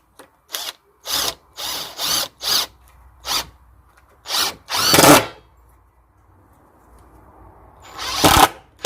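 A power drill drives self-drilling screws into a wooden workbench leg in a string of short, loud whirring bursts. A longer run follows, then a pause and one final burst.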